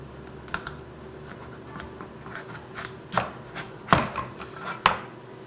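A kitchen knife pressed down through squash on a cutting board, a few scattered crunchy cuts and board knocks, sparse at first and then several sharper, louder strikes close by.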